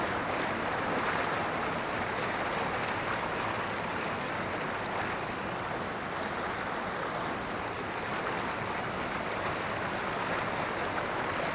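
Water rushing over rocks at Ghagra waterfall, a dense, steady, loud roar that fills the whole scene without letup.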